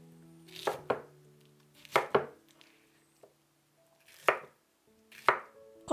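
Knife chopping pineapple on a cutting board, several crisp strikes arriving in pairs and singles with short pauses between, close and fairly loud, no voices.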